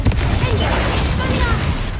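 A Confringo spell explosion in Hogwarts Legacy, a loud, dense blast of booming noise that fills the moment and holds steady for about two seconds before easing slightly.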